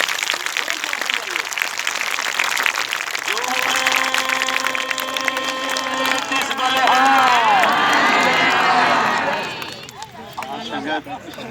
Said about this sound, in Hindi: जोर से तालियां बजाओ कुलदीप जी